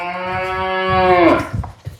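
At a livestock sale, one cow lets out a single long, loud moo that rises and then breaks off, followed by a few short scuffling sounds.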